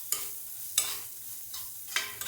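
Chili powder and garam masala with onions being stirred and fried in a pan for a dhaba-style paneer masala curry; four short, evenly spaced scraping strokes over a soft sizzle, close up, with no voices.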